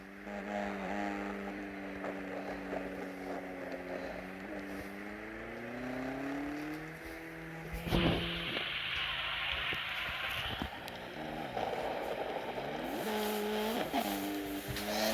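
A car in the DriveX racing game drives through a rainy New York map, its engine note rising and falling steadily with tire squeal and skid noise over a constant rain-like hiss, no talking.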